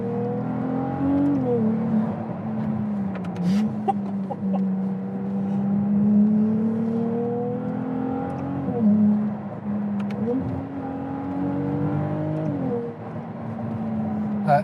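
A car drives along a road, heard from inside as a steady, loud engine drone whose pitch rises and dips several times with gear and speed changes, running throughout without talk.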